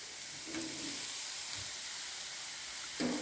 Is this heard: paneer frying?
yes